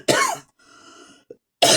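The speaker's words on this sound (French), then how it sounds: "Oh, je tousse." A single sharp cough bursts out close to the microphone, followed by a quiet hum, a tiny click and then a second harsh cough at the end.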